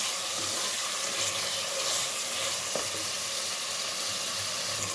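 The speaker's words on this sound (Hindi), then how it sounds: "अब हमने इसका कलर चेंज होने तक इसे हमने फ्राई करना है।" Chicken frying in a pan for a chicken pulao, a soft, steady sizzle that runs on evenly throughout, fairly quiet and close, with a faint clink partway through and no voices.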